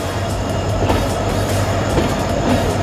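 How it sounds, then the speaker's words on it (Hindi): Passenger train pulling out of Ahmednagar station, with a steady loud rolling rumble of carriages, low engine drone and faint wheel clatter throughout, no voices. "देखते ही देखते हमारी ट्रेन का भी यहाँ से डिपार्चर हो चुका है अहमदनगर से।"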